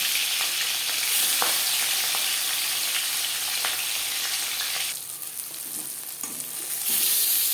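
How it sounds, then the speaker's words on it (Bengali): Marinated rui fish fries in three spoons of hot refined oil, giving a loud, continuous crackling sizzle close by that dips briefly partway through and then surges back. "তিন চামচ রিফাইন্ড অয়েল গরম করে নিয়েছি এবার দিয়ে দেব ম্যারিনেট করে রাখা মাছ"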